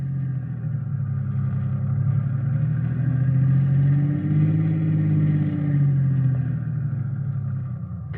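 A car engine idles with a steady low rumble that swells slightly midway, then cuts off abruptly at the very end, heard close and alone.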